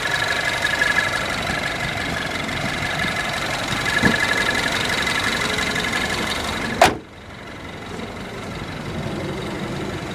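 A 2010 Mini Cooper S with a 1.6 liter dual overhead cam inline-four idles with a steady, even hum and faint ticking, broken by one sharp click midway, after which the drone continues slightly quieter.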